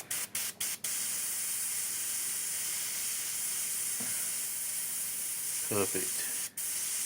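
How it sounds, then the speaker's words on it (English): An airbrush sprays thinned paint onto a 1/56 scale Panzer IV model tank, giving a steady, close hiss that runs almost unbroken, with a few short taps near the start and a brief spoken word near the end. "It's all set up in the airbrush, ready to go."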